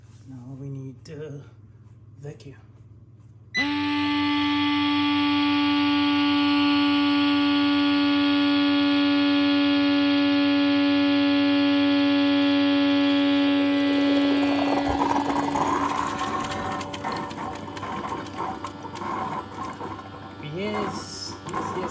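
An Ecovacs Omni X1 robot vacuum switches on and runs with a loud, steady motor whine and hum that holds for about ten seconds before turning rougher and more turbulent, after brief talk at the start.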